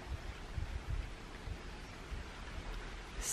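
Rain falls outside during a cosy indoor evening, a soft, steady wash of broadband patter with no distinct drops and no talking.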